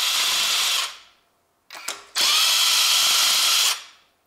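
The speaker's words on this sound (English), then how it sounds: "now I use my electric driver" A cordless electric driver loosens cylinder head bolts on a Honda Civic 1.8 engine, with a loud, close whirring burst, a short stuttering spin, then another sustained high whine, with no talking.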